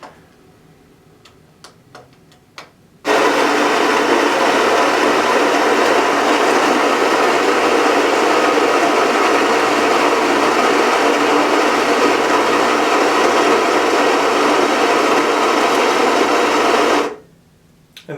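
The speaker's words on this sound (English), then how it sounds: "this is the Vario-W, so it's going to grind exactly 30 grams of coffee" A Baratza Vario-W coffee grinder grinds 30 grams of coffee to a grind slightly coarser than medium, a loud, steady whir lasting about fourteen seconds that cuts off abruptly, with a few faint clicks just before it starts.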